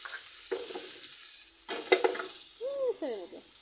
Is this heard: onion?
yes